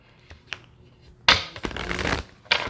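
A deck of tarot cards being cut and shuffled by hand, giving a few short riffling bursts, close and fairly quiet, with no talk.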